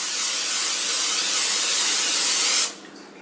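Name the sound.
cooking oil spray being sprayed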